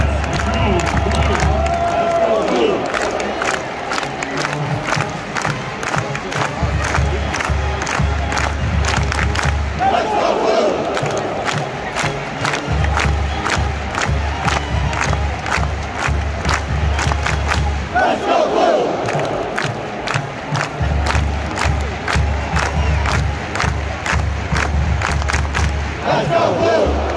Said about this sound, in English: big cheer from the big house. Everybody join in on Let's Go Blue